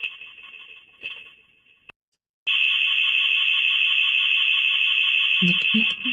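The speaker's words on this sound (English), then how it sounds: "Ooh, I don't like the alarm." A loud, piercing electronic alarm tone holds steady, cuts out briefly, then returns even stronger and continues unbroken, with a few thumps near the end.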